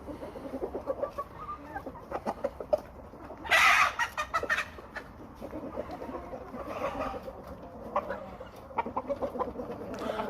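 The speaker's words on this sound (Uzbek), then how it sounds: "12 ta xo'rozi bor. Xo'rozlari qon almashgan." Roosters and hens on a farm in Quva, Fergana region, cluck in short repeated bursts with one brief louder squawk, moderately close with a steady background.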